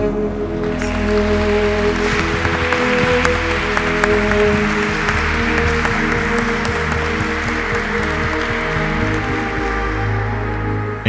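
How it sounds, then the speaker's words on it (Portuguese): A congregation at a parish evening rosary service applauds Our Lady to close the Marian month of May, a dense, steady wash of many hands clapping that holds at even strength for the whole stretch without pause. "dando uma salva de palmas à Nossa Senhora"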